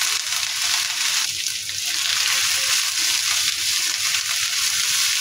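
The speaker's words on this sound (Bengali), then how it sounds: "এখন আমি শাকগুলো দিয়ে দিই।" Leafy greens dropped into a pan of fried onion and garlic, giving a loud, steady broad hiss of sizzling and wet frying that continues without a break.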